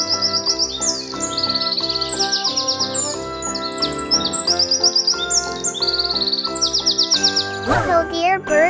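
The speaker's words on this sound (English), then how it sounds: "House wren call." A house wren sings bright, rapid chirps and bubbly trills, repeating in quick bursts, loud and close, ending in a sweeping descending trill.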